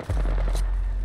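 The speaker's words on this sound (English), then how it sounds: "The enemies are shooting at me." Apex Legends gunfire in a Broken Moon trios match, a short quick burst of rapid shots over a low rumbling background, close and loud.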